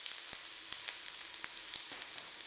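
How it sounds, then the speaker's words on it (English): Sliced ginger frying in about three tablespoons of oil over low heat makes a soft, even sizzle with scattered faint crackles and pops, close and alone with no talk. "Lightly fry the ginger till it's almost golden brown and crispy."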